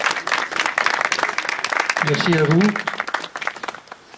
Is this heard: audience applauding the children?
yes